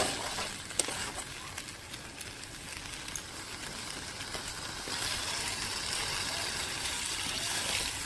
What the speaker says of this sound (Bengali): কষিয়ে নেওয়ার পর পরিমাণ মতন জল দিয়ে দিব